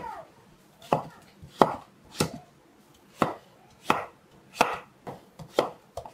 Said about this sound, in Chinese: 最后切成碎丁。